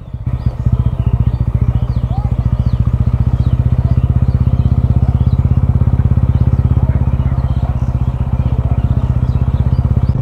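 A TVS Ronin 225cc motorcycle riding along a road, its single-cylinder engine throbbing with a steady, rapid pulse, loud and close. A voice speaks faintly over it.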